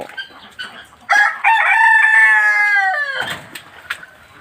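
A rooster crows loudly nearby on a flooded farm, one long drawn-out call, with scattered clucks and light rustling before and after.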